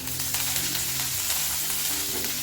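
Steady, dense sizzling of dried red chilli, mustard seeds, asafoetida and curry leaves frying in hot oil, continuous crackle and hiss with faint stirring, no voices.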